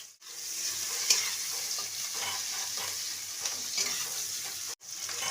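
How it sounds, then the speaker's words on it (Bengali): Onions tossed into hot spiced oil sizzle steadily in a pan, with a continuous bright frying hiss, occasional stirring scrapes and pops, and a brief break near the end. "ফোড়নে একটু পেঁয়াজ দিচ্ছি"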